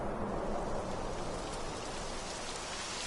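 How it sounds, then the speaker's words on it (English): Rain starting in the video game Dragon Quest 11, a steady dense hiss of falling rain heard alone with no voices, even and continuous throughout. "It would have to go and start raining, wouldn't it?"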